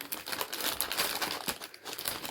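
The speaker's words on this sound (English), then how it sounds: "You might hear some crinkling." Plastic packaging from a February 2020 Sophie and Toffee Elves craft box crinkles and rustles continuously and close up, with brief tearing-like crackles, and no talk.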